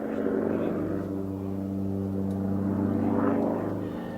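Propeller-driven aerobatic display aircraft pulling a vertical flick roll, a steady droning engine hum with shifting pitch at a distance over several seconds.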